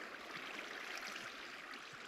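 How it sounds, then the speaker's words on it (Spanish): A waterfall in Minecraft gives a steady, soft rushing hiss of falling water at a low, even level. It plays alone with no voices. "Ahí está la cascada."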